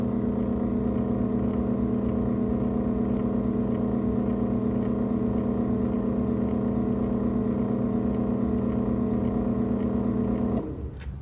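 A 1997 Chamberlain Whisper Drive 8100M garage door opener runs with a steady, droning motor hum and faint rattle, close and continuous, stopping abruptly near the end.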